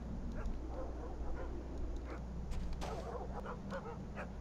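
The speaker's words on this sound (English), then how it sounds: "Can you hear the dogs barking?" Dogs bark in a kennel area of the war video game Iron Storm, a scatter of faint, distant yelps and barks over a steady low background rumble.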